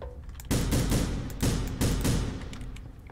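Gunshots in The Final Station video game, four or five loud sharp blasts fired in quick succession, each with a booming low thud and a short decaying tail, close and alone with no talk.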